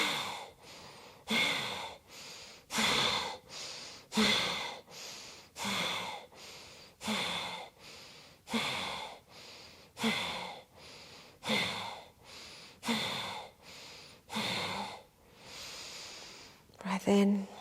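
Rhythmic yoga breathing exercise, about a dozen sharp forceful exhales and sighing breaths in a steady cycle roughly every second and a half, close and clear with no talk over them.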